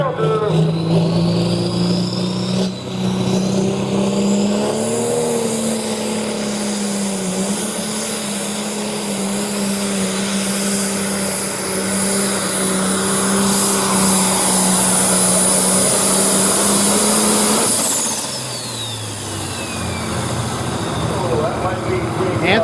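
A John Deere pulling tractor at a tractor pull roars at full throttle, its engine note steady and loud before shifting pitch near the end, with crowd noise and a voice underneath.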